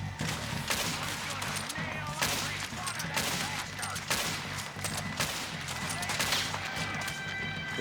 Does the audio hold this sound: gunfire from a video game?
yes